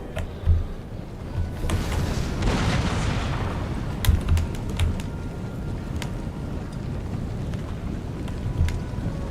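Cannon artillery fire from a Napoleonic-era strategy video game: scattered heavy booms and sharp cracks over a constant rumbling battle din, fairly loud throughout.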